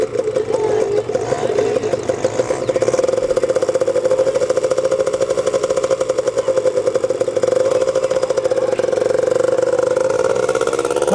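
A motorcycle engine runs steadily at a moderate idle-to-low rev while a woman is learning to ride, a continuous loud mid-pitched drone with light clatter throughout.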